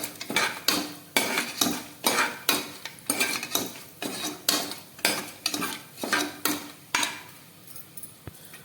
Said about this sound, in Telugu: ఆయిల్ వేసి కాగాక మసాలా దినుసులు అయితే వేసుకోవాలి. వేసుకొని వీటిని బాగా ఫ్రై చేసుకోవాలి.